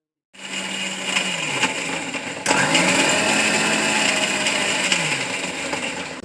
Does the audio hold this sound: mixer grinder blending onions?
yes